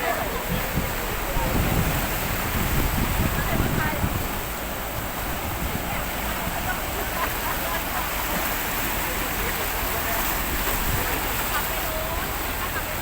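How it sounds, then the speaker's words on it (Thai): Floodwater rushing hard across a flooded road in Khaen Dong, Buriram, a dense, roaring wash of water noise with wind buffeting the microphone, loud and continuous throughout; a voice speaks briefly over it. "นี่จุดนี้น้ำแรงมากครับจุดนี้"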